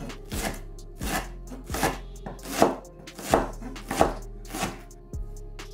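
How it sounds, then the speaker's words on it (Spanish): A knife chops food into small pieces on a board for a tuna marmitako stew, with about eight steady, evenly spaced thuds and sharp cuts close by over faint kitchen background hum. "Y lo cortamos en cachos pequeños,"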